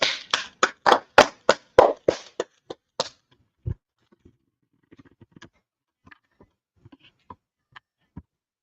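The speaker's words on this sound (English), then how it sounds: "Clap it up for the class." An audience at a religious gathering claps for a class in a quick, loud burst of sharp hand claps lasting about three seconds, then a few scattered faint taps trail off.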